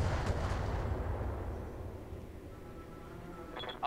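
Two autocannon rounds fired by a mech in the BattleTech game, a heavy booming blast near the start with a long rumbling decay, then a brief sharp burst near the end.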